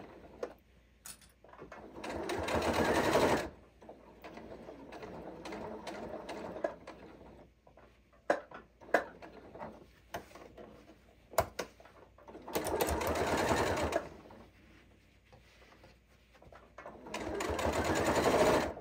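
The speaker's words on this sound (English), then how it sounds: "My sewing machine has a locking stitch, so I'm going to do that first." A home sewing machine stitches fabric for a bowl cozy in several bursts of rapid, buzzing whir, separated by quiet pauses with clicks of handling.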